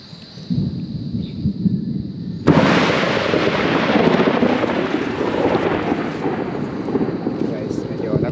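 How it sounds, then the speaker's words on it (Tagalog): Thunder from lightning rolls out beside a creek, a sudden loud crack-like onset followed by a sustained broad rumble that lingers for several seconds, with faint background noise before it. "Guys, medyo nagulat tayo sa kidlat."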